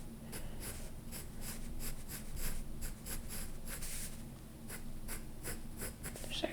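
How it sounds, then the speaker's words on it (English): A pencil sketches a face's hairline on paper in a series of rhythmic, scratchy strokes, close and fairly clear, with no talking. "So let's draw the hairline here."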